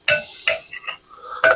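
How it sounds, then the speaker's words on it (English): A spoon clinks and scrapes inside an old aluminum measuring cup while chocolate pie filling is mixed, three or four bright metallic taps with soft stirring between, close and clear. "I'm just going to mix that together like that"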